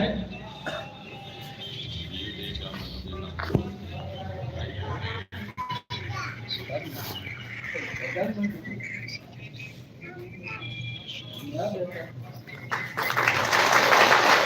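A crowd applauding to welcome an honoree at a Kakadiya family honoring ceremony, steady mid-level clapping throughout, swelling louder near the end, with a few children's voices and murmurs mixed in.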